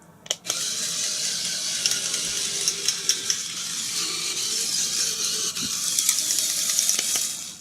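A remote control tarantula toy in demo mode whirs and ratchets continuously up close, its small gears grinding with scattered clicks and taps as the legs move. There is no talking.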